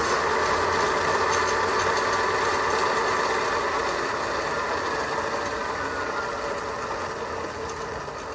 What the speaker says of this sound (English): your bike is going to start its calibration. So your wheel is gonna spin